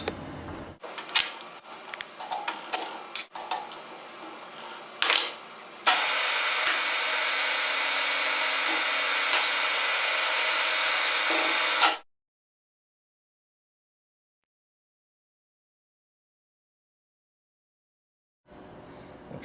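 A lathe center-drills a metal tensile test specimen, first with scattered clanks and handling knocks, then a steady loud whir for several seconds, which stops abruptly into silence before a faint sound returns at the end.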